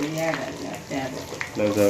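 Curry leaves hit hot tempering oil and sizzle in a brief, steady crackle while a voice speaks over the frying.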